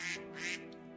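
Ducks quack in the Minecraft video game, two short nasal quacks close together followed by fainter sounds, fairly quiet with no talking.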